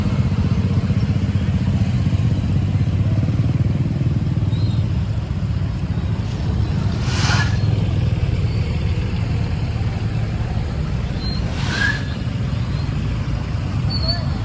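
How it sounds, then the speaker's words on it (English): Street traffic in the Philippines, with motorcycles and cars passing: a continuous near engine drone and idling clatter, with a couple of faint high squeaks or horns, and no voices. "Look at the traffic."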